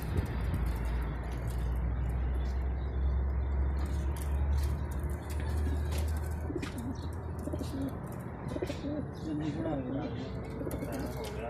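Pigeons cooing and chirping at a pigeon-flying competition in Faisalabad, Pakistan, amid a busy outdoor background with a low rumble and voices talking nearby.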